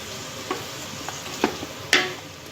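Vegetables sizzle gently in butter in a pot for tomato soup, a soft steady hiss broken by a few light stirring clicks and one sharper scrape, with no talking.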